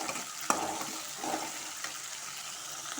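Garlic, onion and tomato sauté with curry leaves in a pan for a home tamarind curry, making a quiet, wet crackle with a sharp clink and a few soft stirring scrapes, all fairly faint and with no voices.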